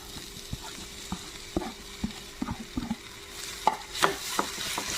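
Chopped plantain is stirred into grated coconut frying in ghee, making quiet, irregular spoon scrapes and soft clacks over a faint, steady sizzle, with no talk.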